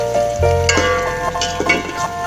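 Chopped onions and two green chillies fry in a pan, giving a steady close sizzle with a few light clinks and stirring scrapes over a faint tonal background.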